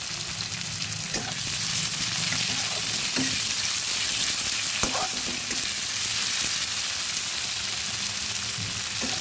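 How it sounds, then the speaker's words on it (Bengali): Chopped onion fries in oil with a continuous crackling sizzle held at an even level, with occasional soft taps of a spatula stirring the pan; no voices. "লাল লাল করে পেঁয়াজটা ভালো মতো ভেজে নেব।"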